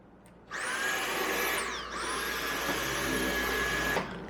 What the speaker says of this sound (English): I'm going to continue vacuuming the rest of the coach